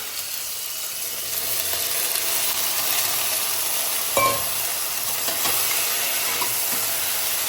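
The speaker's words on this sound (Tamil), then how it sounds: "கரண்டி இப்போ கத்திரிக்காய் போட்டுடலாம்" Brinjal pieces sautéing in a pan, a steady close sizzle and hiss with occasional scraping stirs and a ladle clink partway through, no voices.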